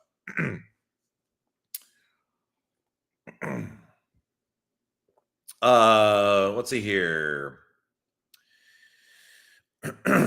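A man clears his throat a couple of times in short raspy bursts, between quiet pauses and some brief speech.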